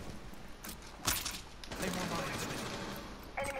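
Rapid bursts of gunfire from the tactical shooter game Rainbow Six Siege, a sharp loud shot near the start followed by a sustained fusillade and a later burst, with players talking over it.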